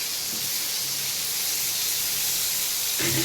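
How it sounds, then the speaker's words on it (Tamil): Lake fish frying on a hot tawa gives a continuous loud, hissing sizzle close by, steady from start to finish with a slight change near the end. "இந்த பக்கம் வந்து பார்த்திங்கன்னா மீன் வறுவல் ரெடி ஆகிட்டு இருக்குது"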